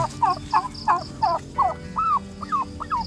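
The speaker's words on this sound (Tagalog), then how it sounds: "napisa na po yung ating mga turkey sisiw" Newly hatched turkey chicks peeping in a quick series of shrill, rising-and-falling chirps, about a dozen calls in steady rhythm, close by over a low background hum.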